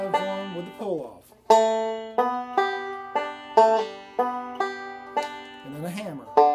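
Bluegrass five-string banjo rolling picked patterns with slides and a pull-off, a steady run of bright plucked notes repeating in clear phrases, played alone and close.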